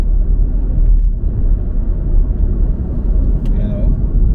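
A burnt 2013 Chevy Equinox salvage car being driven back and forth, giving a steady low engine and road rumble heard from inside the cabin, with a brief faint squeak near the end.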